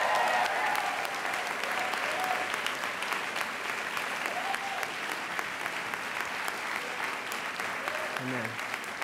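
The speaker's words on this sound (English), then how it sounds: "So let's give another round of applause." Audience applause at the 2017 Goldman School of Public Policy commencement ceremony, a steady wash of many hands clapping that holds for the whole stretch, with some crowd murmur and voices underneath that fade toward the end.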